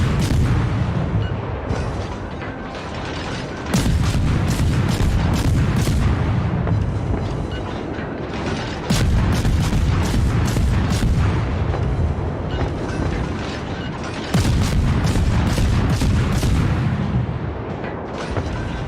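Guns of a German Tier II cruiser, the Dresden, firing in World of Warships: repeated deep booming salvos in three heavy bursts, each a loud cluster of rapid blasts over rumbling background.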